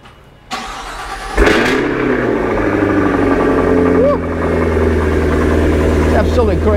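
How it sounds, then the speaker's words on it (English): A 2023 Cadillac Escalade V Series V8 cold-starts with a sudden loud roar after a quiet moment, flares briefly, then settles into a deep, steady, rumbling idle close by, with a slight dip and swell partway through. "Let's do a cold start."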